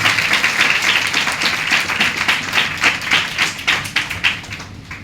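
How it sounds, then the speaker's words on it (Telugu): A church congregation clapping loudly together, a dense, sustained burst of many hands in a fairly steady rhythm, close and strong throughout, easing slightly toward the end. "గట్టిగా చప్పట్లు కొట్టి ప్రభువుని కనపరచాలి"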